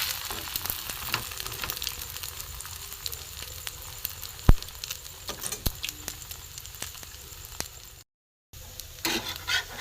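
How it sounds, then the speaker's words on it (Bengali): A chicken roll sizzles in a pan as it is fried on both sides, a constant close crackle broken by a sharp knock and light scraping from turning. "এপিট ওপিট করে ভাজা হয়ে গেছে"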